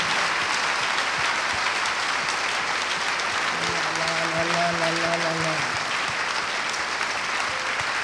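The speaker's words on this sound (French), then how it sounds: "Acclame très fort le Seigneur." Church congregation at a worship service in Togo clapping in sustained, dense applause, mixed with a voice that rises and holds briefly in the middle, fairly loud and steady throughout.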